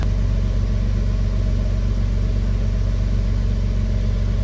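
A Porsche 986 engine after a cold start, idling steadily with a loud, even, close drone that holds through the whole stretch, no talk.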